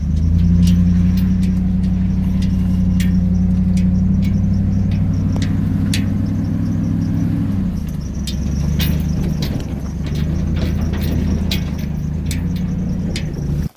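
An old Chevy truck drives across a Southern Illinois farm, its engine holding a loud, steady low rumble up close with light rattles and clicks from the cab throughout.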